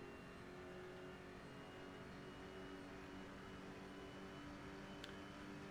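Race car engine in the Rennsport racing game near Eau Rouge at Spa, a sustained whining drone with steady tonal layers, fairly quiet, plus a brief sharp click near the end and no talking.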